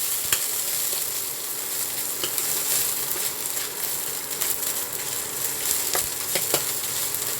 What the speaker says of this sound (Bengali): এবার আমি এখানে আদা কুচিটা অ্যাড করব। একটু নেড়ে ছাড়ব